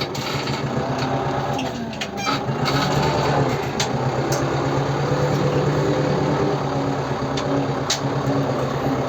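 Tractor engine running steadily outdoors in snow, a loud continuous mechanical drone with a rattling high whine and a few faint clicks, with no talk over it.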